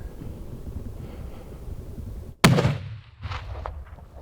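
A single loud rifle shot cracks out while hunting tahr in New Zealand mountains, a sharp close blast followed by a brief rolling echo over steady outdoor wind.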